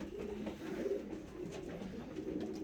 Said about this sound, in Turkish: Her yer kuş dolu.